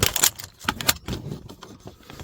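Bunch of keys jangling close by in a few quick metallic shakes, bright rattling bursts with short pauses between them and no speech over it.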